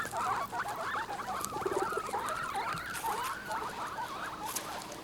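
Guinea pigs squeak and chirp excitedly at the scent of food, a continuous run of quick, warbling high-pitched calls with soft pattering, fairly quiet and close.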